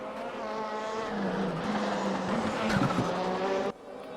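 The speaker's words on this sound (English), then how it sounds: "the blow-off valve noise was amazing there though" A 2015 Citroen racing car engine in the RaceRoom racing video game drones at high revs, then a turbo blow-off valve releases a sharp hiss before the sound cuts out abruptly.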